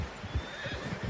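A horse in Red Dead Redemption 2 gives a short whinny over soft clip-clopping hooves, heard close and fairly quiet.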